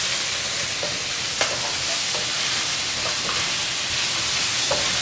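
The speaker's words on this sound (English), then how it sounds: "Lower the heat now. You don't want that ginger to burn, and keep stirring." Steady crackling sizzle of ginger frying in hot oil, with occasional scrapes and clicks of a utensil stirring the pan.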